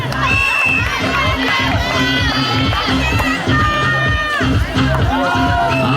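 A volleyball crowd cheers and shouts loudly and steadily at a summer volleyball camp match, many voices overlapping with rhythmic chanting pulses and high excited calls close around.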